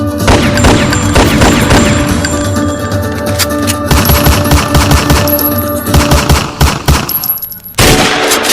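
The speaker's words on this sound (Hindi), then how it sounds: "पुलिस वालों ने उस पे गोली चला दी।" A loud sound effect of police firing guns: rapid bursts of sharp, crackling shots follow one another densely, with a brief lull and a final crack near the end.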